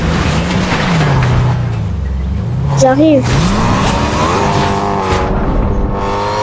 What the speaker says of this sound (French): La voiture est rapide.